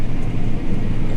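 A combine harvester engine roars steadily at high revs, a dense low rumble with no pauses, close and loud.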